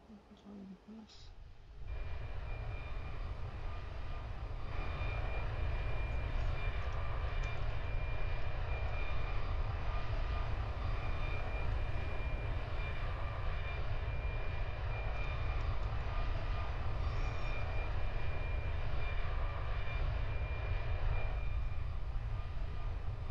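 Airbus A340 jet engines in the Roblox game Aeronautica, taxiing to the gate: a steady, loud whine and roar that starts abruptly and then holds constant, with faint talk at the start.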